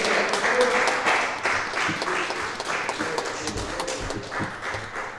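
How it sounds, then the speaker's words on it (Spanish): A church congregation applauds after a Spanish and French sermon, a dense, steady wash of many hands clapping that fills the whole stretch at fairly close range, with no voices standing out. "Den un aplauso a Dios."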